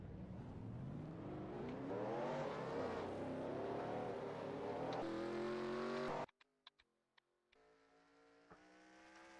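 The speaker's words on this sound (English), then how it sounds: "Engines are fired." Race car engines in the NR2003 video game roar loudly and steadily with rising revs for about six seconds, then cut out abruptly, leaving brief clicks before a quieter engine drone returns.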